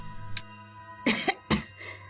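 Two harsh coughs close together near the mic, preceded by a faint throat sound, with quiet background hum between them.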